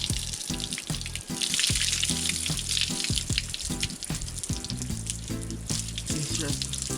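Water splashing and running over hair during an outdoor hair wash, a steady close hiss broken by uneven spatters, with brief voices in between.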